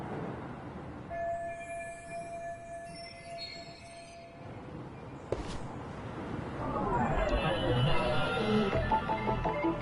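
Commuter train ride in the video game Lost Judgment, a steady rumbling carriage roll with a faint whining tone that swells louder toward the end, a sharp click midway, and voices talking over it.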